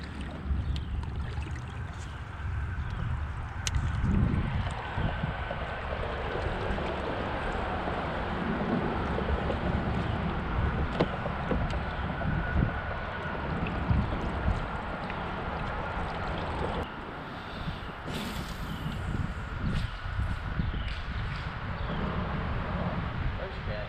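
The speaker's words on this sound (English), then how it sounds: "It is a little windy." Wind gusts across a river during a bass fishing outing in Georgia, a steady broadband rush with low rumbling buffeting on the microphone, plus faint water and boat sounds throughout.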